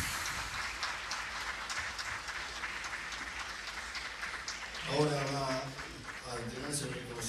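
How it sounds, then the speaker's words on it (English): Steady applause from a conference audience at an opening ceremony fills the clip, with a voice speaking over the clapping near the end. "So let's give them a round of applause."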